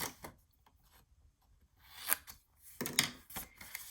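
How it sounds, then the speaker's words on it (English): Paper or acetate sheet being cut along score lines for a small mini album box, a few short crisp cutting strokes spaced out, close and moderately quiet with no talking. "So this side, and just flip it over and cut it again right here."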